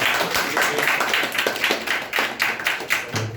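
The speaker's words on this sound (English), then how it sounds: "Clap for him once again." An audience applauds after a speech at a talk, with steady, dense clapping from a crowd heard close and continuous throughout, with no voices over it.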